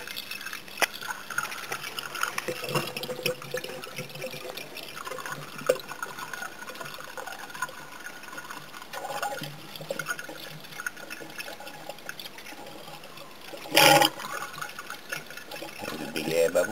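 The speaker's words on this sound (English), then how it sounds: "You'll hear all the air coming out, which normally gets trapped under the thermostat" Coolant poured into a Daimler radiator with air gurgling and bubbling out from under the thermostat, a steady liquid trickle and splash with a brief louder gush near the end.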